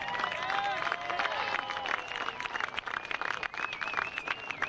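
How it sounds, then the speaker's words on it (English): An outdoor air show crowd applauds a US Army Golden Knights parachute team landing, with scattered clapping and crowd noise mixed with an announcer's amplified voice over a public address system. "Big round of applause, ladies and gentlemen."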